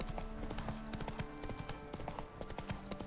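A horse galloping in The Witcher 3: Wild Hunt, with rapid, steady hoofbeats thudding close and loud over ambient game sound and no talking.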